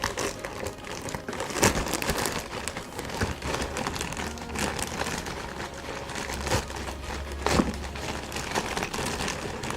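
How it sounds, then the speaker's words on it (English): Plastic wrapping is torn and crinkled off a Lenovo IdeaPad laptop, continuous close rustling and crackling with a few louder crunching tugs. "So we're gonna tear the plastic because I like to tear stuff."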